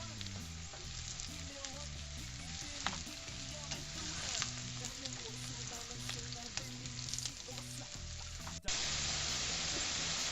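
Bacon frying in a pan while making a Spanish tortilla, a steady soft sizzle with stirring scrapes throughout and a brief louder burst near the end.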